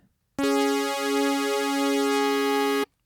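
A single sustained detuned sawtooth note from an Access Virus TI synthesizer, bright and buzzy with slow phasing beats, holding for about two and a half seconds before cutting off cleanly.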